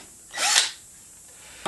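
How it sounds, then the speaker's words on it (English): A power drill spins a Forstner bit into wood, boring a hole in one short, loud burst of about half a second, then falls quiet before a brief clatter at the end. "we're going to use this Forstner bit, and wherever we've marked, we're going to drill a hole like this"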